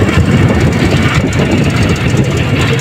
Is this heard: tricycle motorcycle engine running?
yes